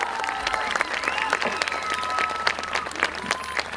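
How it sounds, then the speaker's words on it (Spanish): Festival concert crowd in Licantén applauding the bass player, sustained clapping at moderate distance with a voice speaking and a sustained tone running beneath it. "un fuerte aplauso para él."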